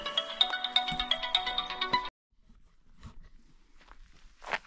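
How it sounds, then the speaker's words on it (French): A telephone ringtone plays a bright repeating melodic pattern for about two seconds, then stops abruptly, followed by quiet footsteps and soft rustling in an outdoor setting. "on est emmerdé par les téléphones"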